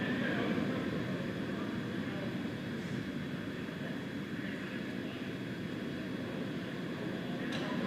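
Continuous deep, broadband roar of Falcon 9 first-stage Merlin rocket engines during launch, heard steady and distant with no voices over it.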